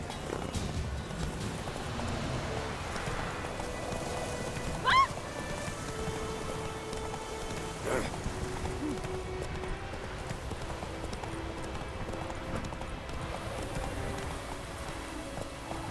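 Roach, a horse in The Witcher 3, moving at pace with a steady run of hoof clip-clops over a continuous rain-like ambient wash, a couple of brief sharper knocks standing out.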